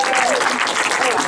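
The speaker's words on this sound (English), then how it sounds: "Can we give a massive round of applause for Helen?" A short burst of crowd applause for Helen at a bar event in Eastbourne, dense clapping throughout with a voice briefly audible over it.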